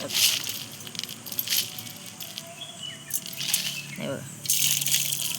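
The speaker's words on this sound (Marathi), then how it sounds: "त्यात आपण आता जाडं मीठ टाकणार आहोत." Coarse salt pours into a pan of water in rattling, crackling bursts, close by, with a voice speaking over it.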